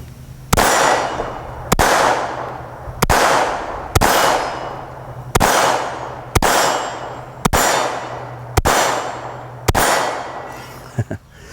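Eight evenly spaced shots ring out from a compact .22 pistol, each a sharp close crack with a short ringing decay, fired at a steady pace of about one every one and a half seconds.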